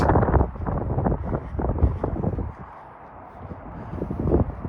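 Steady wind buffeting the microphone outdoors at night on Royal York Road near Mimico, a low broadband rumble that swells and eases, dipping briefly before gusting up again.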